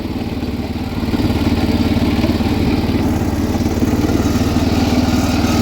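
The engine of a 1979 John Deere 216 lawn tractor drives along in third gear, a close, steady mid-pitched putter with a fast rhythmic pulse and light clatter throughout, with no talk.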